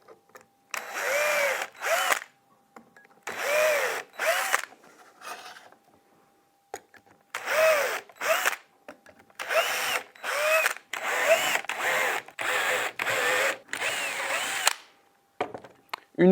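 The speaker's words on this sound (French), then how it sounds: "pré-percez-les à l'aide du gabarit en repère A et de votre mèche de 2 mm" Bursts of drilling as a power drill with a 2 mm bit pre-drills the wooden lid slats of a garden composter, about a dozen short whirring runs separated by pauses, close and clear.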